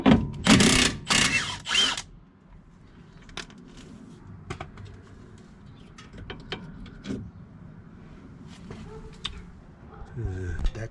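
A ratchet works the 14 mm sway bar end link nut on a 2004 Nissan Sentra, with quick loud clicking bursts at the start followed by quieter scattered clicks and taps of tools over a low background.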